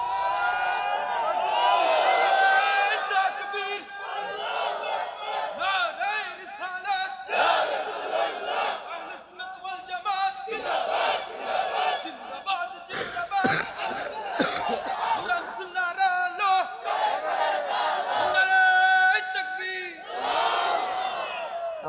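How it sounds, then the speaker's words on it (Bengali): A large crowd at an Islamic sermon chants the takbir loudly in unison, repeated shouted waves of many voices rising and falling over about twenty seconds. "এবার তাকবীর জোরে।"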